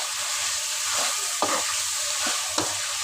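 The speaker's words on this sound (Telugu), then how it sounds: "చికెన్ అయితే ఒకసారి కలిపేస్తాను" Roasted chicken curry stirred in a frying pan, a steady sizzle under a few distinct scraping strokes of the spoon against the pan, close up with no talking.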